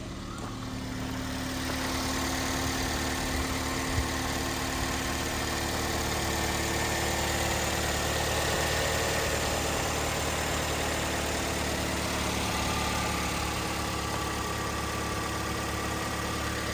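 A 2011 Toyota Yaris 1.5E with automatic transmission idles steadily, its engine giving a continuous, even hum with a faint vibration, recorded up close with no talking.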